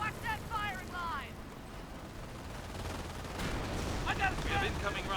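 Rocket artillery fire and explosions in the World War II strategy game Company of Heroes, a steady rumbling barrage running throughout beneath short bursts of radio-style voice chatter at the start and end.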